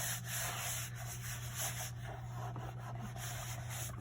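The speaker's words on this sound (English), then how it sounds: "I'm going to rub everything really well because we don't want it to bleed" A stencil is rubbed firmly against a painted board, making a steady, close, dry rubbing and scraping that continues without pause. No one speaks.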